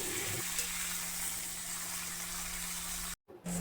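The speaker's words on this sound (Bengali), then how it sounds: "আর এই সবজিগুলো একটু হালকা তেলে একটু নেড়ে চেড়ে নেব।" Vegetables for sukto are stirred and lightly fried in a little oil, giving a soft, continuous sizzle with a low steady hum beneath, broken by a brief dropout near the end.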